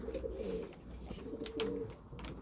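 Domestic pigeons cooing close by, two soft low warbling coos in quick succession over faint room noise.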